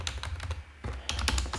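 Fingers tap quickly on a computer keyboard in two short bursts with a brief pause between, the keystrokes close and moderately loud.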